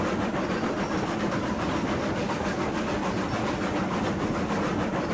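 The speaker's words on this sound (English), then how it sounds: "Listening to the chugging of the train" Steam locomotive in the Railroads Online game chugs continuously, a dense steady rhythmic churn of piston beats and rail noise filling the whole stretch at constant loudness, with no talking.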